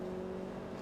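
A 1957 Fiat 500 tuned to 300 horsepower drones steadily in Forza Motorsport 2, its engine giving a quiet, even hum with no breaks.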